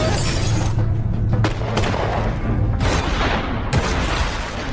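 Several loud gunshots crack out in an exchange in a film scene, sharp bangs separated by brief pauses over a dense, rumbling cinematic background.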